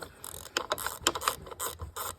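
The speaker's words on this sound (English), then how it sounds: "Grab a ratchet. So now you see we're on the bolt." A hand ratchet turning a bolt during a tune-up on a 2016 Ford Escape: quick, close clicking in short irregular bursts, quiet and alone with no talking.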